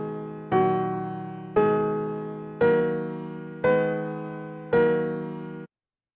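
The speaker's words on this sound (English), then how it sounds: "if you take it and you make it a minor version and you make it slow, it sounds like this" A slow melody in a minor key, five sustained notes struck about one second apart, each ringing and fading gradually before the next, clear and alone in a quiet room.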